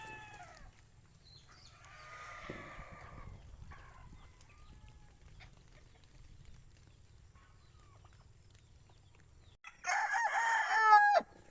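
A rooster crows loudly near the end, following a quiet stretch of soft clucking and low rustling from a few wet chickens just after rain.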